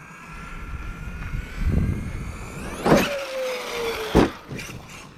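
A Traxxas Sledge RC monster truck with a Castle MMX8S electronic speed control whines as its electric motor revs up and down in short bursts, with rising and falling pitch and a few rattling bumps as it drives outdoors.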